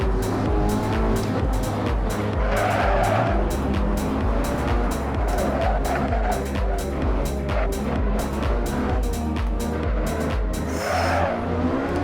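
A supercar is driven fast around the Nürburgring, its engine repeatedly revving and shifting through gears in loud, rising surges with pulsing exhaust bursts and occasional tire noise, heard from close by without speech.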